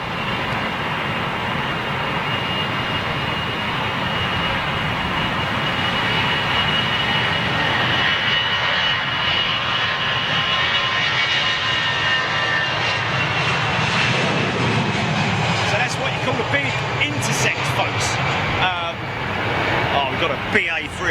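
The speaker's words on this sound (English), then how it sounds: "We've got a BA 380 coming out as well." A British Airways Airbus A380 at Heathrow Airport gives a loud, sustained jet engine roar that holds steady and then shifts as it moves, with a voice talking over parts of it.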